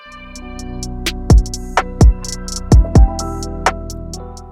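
Reversed guitar phrase sample processed with chorus, delay, reverb and EQ in FL Studio, swelling sustained tones with several sharp, loud swooping plucks scattered through a dreamy wash, alone and fairly close.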